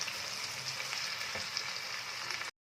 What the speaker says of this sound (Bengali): প্রত্যেকটা জিনিসকে আমি একদম ভালো করে একটু ভাজা করে নেব